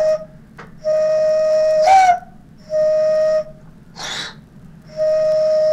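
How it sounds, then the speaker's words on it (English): A Kümmerling bitter bottle is emptied in repeated bursts of steady, whistle-like hollow tones, five near and fairly loud pulses separated by short gurgling gaps. "what you heard was the emptying of a Kümmerling bottle"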